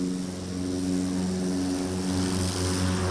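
A STOL aircraft taking off at the Pony Express STOL Competition in St. Joseph, Missouri, its propeller engine droning loudly and steadily throughout.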